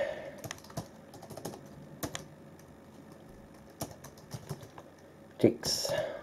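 Quick keystrokes on an iBook G3 laptop keyboard entering a hostname, light clicks in short runs, fairly quiet, ending with a louder tap and some brief background sound.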